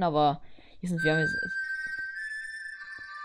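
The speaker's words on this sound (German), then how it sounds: "Das war mein Handy." A mobile phone message notification tone chimes as a short, bright, ringing tone that lingers and fades, following someone speaking German during a Minecraft playthrough.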